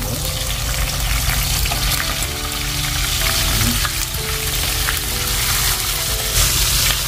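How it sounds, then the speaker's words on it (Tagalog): Assorted small fish frying in hot oil, a dense, loud, continuous sizzle with faint stirring and scraping, close up and without talk. "Prituin lang po natin muna yan."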